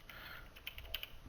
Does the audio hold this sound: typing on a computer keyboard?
yes